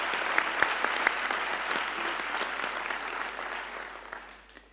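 Thunderous applause from the audience at a Rhodes University graduation ceremony, a full, dense clatter of clapping that starts strong and gradually thins and fades toward the end.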